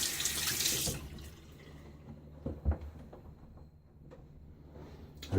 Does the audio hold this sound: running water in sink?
yes